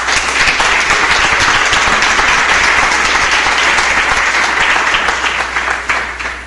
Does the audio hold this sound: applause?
yes